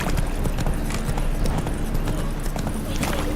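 Horse hooves clip-clop steadily from a ridden horse in the video game The Witcher 3: Blood and Wine, a continuous trotting rhythm mixed with dense in-game ambience and a brief voice.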